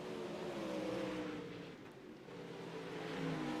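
A dirt track race car roars along the bumpy front stretch, its engine note wavering and dipping as it bounces over the ruts, fairly loud and steady with a brief dip midway.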